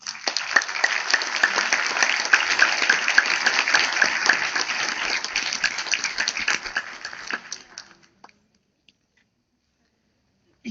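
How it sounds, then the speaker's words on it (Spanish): Lecture audience at a conference on prehispanic Mexican culture breaking into applause, a moderately close burst of many hands that swells, sustains for several seconds, then tapers off into near silence. "les demos un aplauso a Diego y a Frida"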